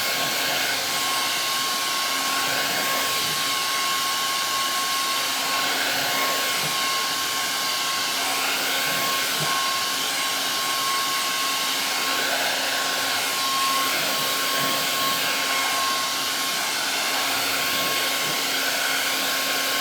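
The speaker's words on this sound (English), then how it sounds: "I'm gonna go ahead and blow dry" Hair dryer on hot heat blowing over fresh stencil paint on a DIY buffalo plaid Christmas sign, a steady close whooshing roar with a constant motor whine running the whole time, no talking.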